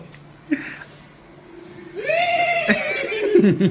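A person imitates a horse neighing, voicing a loud, rising whinny that wavers and breaks off, preceded by a short vocal sound and quiet background.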